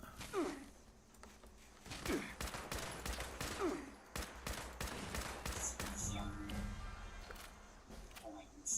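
Gunfire from attacking Liberator robots in the Fallout 76 video game comes as repeated sharp shots in bursts across the clip, mixed with game effects while a player speaks.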